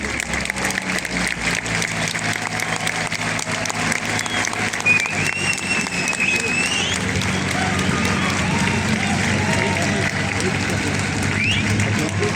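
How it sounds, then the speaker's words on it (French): Spectators at a car event applaud, with dense, continuous clapping under a loud engine drone, a brief tire squeal partway through and voices in the crowd. "Allez, on applaudit"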